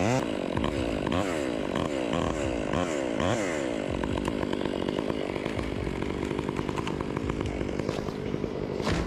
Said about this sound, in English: all share a common tool, the STIHL chainsaw